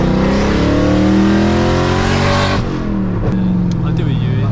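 Straight-piped Audi S4 tuned to around 400 horsepower revs hard, a loud continuous engine roar that climbs in pitch, drops briefly, then surges again from close by, with people talking over it.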